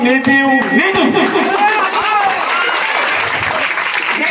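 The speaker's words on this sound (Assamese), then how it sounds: "আপোনালোকে যদি জোৰেৰে হাত তালি দিয়ে" Audience clapping fills a stage cultural show performing a drama against child marriage, steady and loud for about four seconds, with voices calling and chattering over it.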